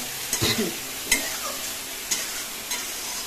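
Soybean chunks and potato being stir-fried with spices in a pan, a few distinct scraping stirs against a soft background sizzle, close and fairly quiet, no talk.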